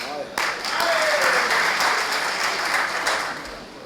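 Applause from the audience at a Punjabi comedy stage drama, a sustained burst of many people clapping that stays loud and steady, with a brief voice at the start.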